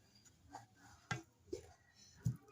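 A knife or cutter slices through a hot homemade pizza in a few short, separate strokes, each a soft crunchy scrape close by, with quiet pauses between.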